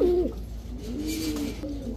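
A giribaz pigeon pair coos close by, with a male giving low, throaty rolling coos over a steady background hum.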